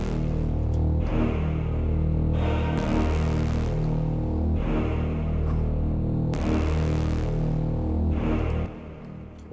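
The breakdown of a dark trap beat built on violin and piano, with a loud sustained layered melody over a deep low end and bright swells that rise and fall in repeating bars before it cuts off near the end.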